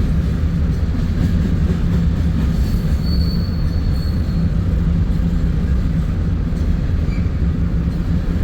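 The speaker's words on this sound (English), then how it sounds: "We got a westbound intermodal right behind us that just did a crew change." A westbound intermodal freight train rolls past close by as a loud, steady rumble, with wheel squeal over the constant rolling roar throughout.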